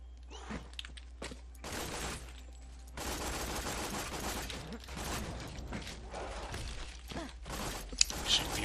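Gunfire in the Borderlands 2 video game: bursts of rapid shots and a sustained stretch of shooting amid mechanical game effects, moderately quiet, with no talk.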